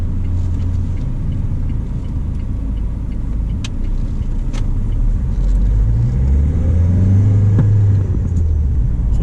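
Mahindra XUV500 SUV with a 2.2-litre M-Hawk diesel engine and six-speed manual gearbox, driving in a steady loud low engine drone and road rumble with a slight rise in revs near the end.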